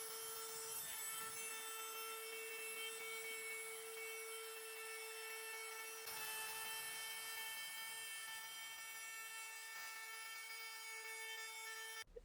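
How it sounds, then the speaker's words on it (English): Wood router shaping and rounding the edges of wooden pieces for a mid-century console base, a steady high whine with strong tonal harmonics running continuously and loudly up close, with brief dips near six and ten seconds. "here's an up close look of the router in action"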